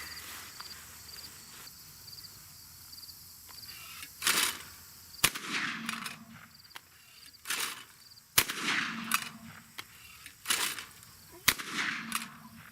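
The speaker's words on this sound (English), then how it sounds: "So let's get the plugs in, and we'll take a few shots." A Browning A5 Sweet Sixteen 16 gauge autoloading shotgun fires three sharp, loud shots a few seconds apart, each with a short echo, outdoors against a steady background of insects.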